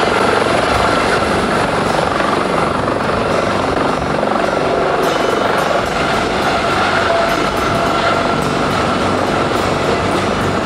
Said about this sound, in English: Toys for Tots Santa was arriving there by helicopter to bring toys for the kids